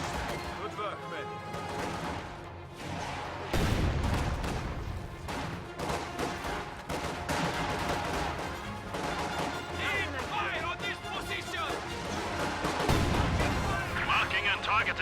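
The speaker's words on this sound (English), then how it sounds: "Contact! Small arms fire!" Small arms gunfire in a video game battle crackles throughout, dense bursts mixed with heavier booms and game music, loud and continuous, with voices barking orders over it.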